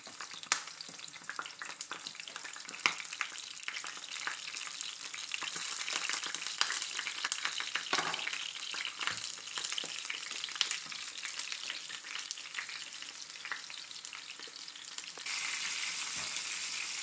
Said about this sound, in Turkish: Arkadaşlar böyle şu şekilde kızarıyor.